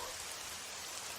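Rain falls steadily in a soft, even hiss, faint and continuous with no voices.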